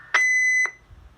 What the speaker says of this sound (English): Let's do that Roger beep in there real quick.